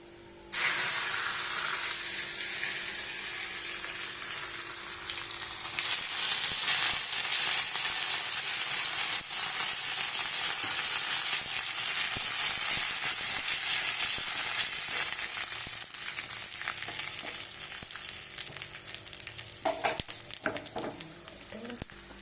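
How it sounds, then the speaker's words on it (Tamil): Okra frying in a pan with a mustard seed and crushed garlic tempering, a loud, steady hiss and sizzle that runs almost throughout before easing near the end. "தாளிச்சாச்சு வெண்டைக்காவும் ஃப்ரை ஆயிடுச்சு ஆல்மோஸ்ட்"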